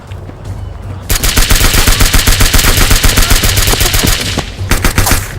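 Sustained rapid automatic gunfire in an audio drama, loud and close, a dense rhythmic burst of shots running for several seconds with a brief pause and resumption near the end.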